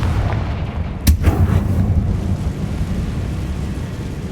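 A Confringo fire spell explodes in the Hogwarts Legacy video game as one sudden heavy boom with a short rumbling tail, set against a constant loud low game ambience.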